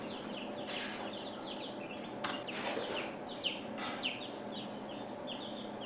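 Cornish Cross meat chickens cluck and squawk in a busy flock during feeding, with several sharp calls standing out over a steady background of chatter.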